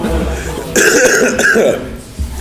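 A short, rough cough or throat clear up close, a couple of harsh bursts in quick succession.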